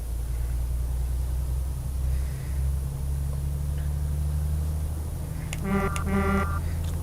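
A truck horn in Euro Truck Simulator 2 sounds two short honks near the end, with no echo, over a steady low engine and road drone.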